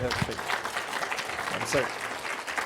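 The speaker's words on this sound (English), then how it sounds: "Let's give him a round of applause for that thing." An audience at a guest archaeology talk in a congregation hall applauds steadily, dense clapping throughout with a brief voice or two mixed in near the start.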